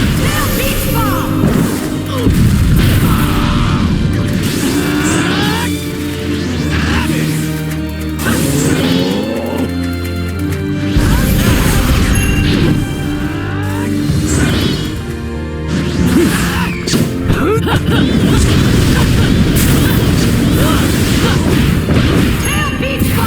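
Tailed Beast Bomb attacks in the Naruto Shippuden Ultimate Ninja Storm 4 final battle with Sasuke, as loud, sustained crashing explosions with booming impacts and whooshes, dense and continuous, mixed with shouted game dialogue.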